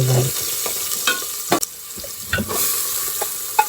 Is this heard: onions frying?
yes